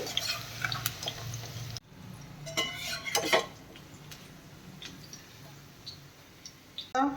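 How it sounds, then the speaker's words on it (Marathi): Fried cauliflower florets are lifted out of a hot pan, with light metallic clinks and scrapes of a spoon against the cookware, a few sharper clatters near the middle and end over a quiet kitchen background. "फ्लावर हा मी आता काढून घेते"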